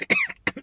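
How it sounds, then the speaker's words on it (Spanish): A person with a cold and flu gives a quick burst of short coughs, a sharp rasping first cough followed by a couple of smaller ones, close to the microphone with no talk. "Entonces tengo tos."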